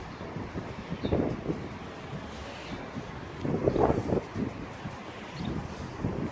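Gusts of wind on a sea-facing terrace buffet the microphone in uneven rumbling bursts, rising and falling with a faint airy hiss between them.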